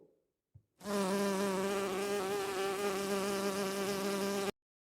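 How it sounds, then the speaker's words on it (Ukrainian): A bee buzzes loudly and continuously near the microphone for about four seconds, its drone wavering slightly in pitch, then stops abruptly. "Це бджола."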